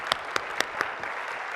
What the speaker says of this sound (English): let's give them a round of applause in gratitude